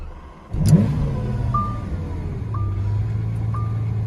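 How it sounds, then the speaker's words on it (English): Lamborghini Aventador LP750-4 SV engine starting: a sharp burst as the engine fires and flares, then settling into a steady, loud low idle, with a few short chimes sounding at regular intervals. "So foot on the brake, hit the start button"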